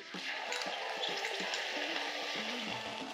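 Finely chopped ginger sizzles loudly and steadily in a hot pan with toasting cumin seeds, a close, continuous frying hiss with faint stirring scrapes.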